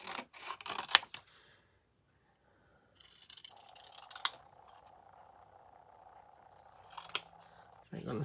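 Scissors snip through card stock for a homemade Christmas card: a few quiet, crisp cuts separated by near-silent pauses, with a faint hum in the background.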